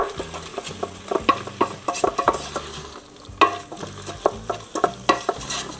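Spices being stirred into a pot of cooking mushroom soup, with a utensil scraping and clinking in an irregular rhythm over a steady sizzle of frying, close and moderately loud.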